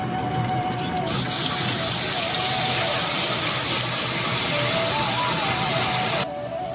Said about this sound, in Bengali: সেই বেগুন ভাজার তেলে আমি দিয়ে দিচ্ছি 1/2 চামচ পরিমাণে কালো জিরে।